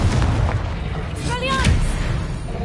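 Confringo spell blasts go off in Hogwarts Legacy combat, dense booming explosive bursts rumbling one after another over continuous game noise, with a voice speaking briefly in the middle.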